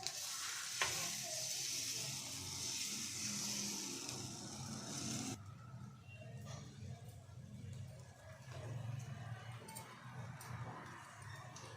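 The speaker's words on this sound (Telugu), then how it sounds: "దోశ స్టార్ట్ చేసేస్తాం" Dosa batter sizzling on a hot pan, a steady frying hiss that drops away midway, leaving softer sizzle with light clicks, close and fairly quiet.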